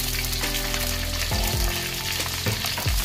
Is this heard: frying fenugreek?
yes